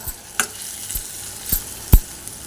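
Seasoning frying in a pan with butterfly pea flower paste for fried rice, a low sizzle broken by a few sharp stirring clinks and scrapes, close and alone with no voices.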